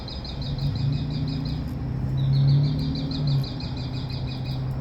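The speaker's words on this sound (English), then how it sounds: "Hear the birds?" Small birds chirp in rapid repeated trills, a thin, bright series coming and going against steady outdoor background noise and a low hum near an order window.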